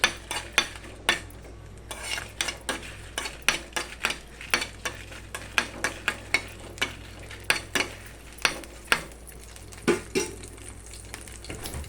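Dried red chillies frying in a pan for Guntur-style pachi pulusu, a steady soft sizzle punctuated by regular sharp scrapes and clinks of a stirring spoon against the pan, with no talk.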